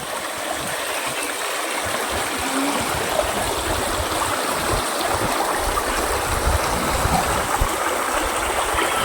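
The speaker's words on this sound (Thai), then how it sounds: "ฟังเสียงน้ำไหลจากลำธาร" Water in a stream below a hillside cafe in Chiang Khong, Chiang Rai, Thailand, flows and babbles steadily and fairly close, a continuous rushing with no voices.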